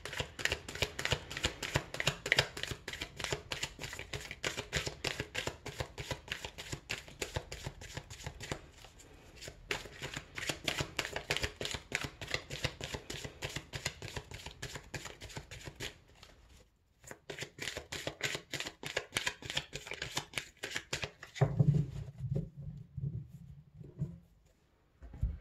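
Tarot cards being shuffled by hand, a steady run of rapid riffling and flicking close up, pausing briefly before the shuffling resumes and then settling into softer card handling at the end.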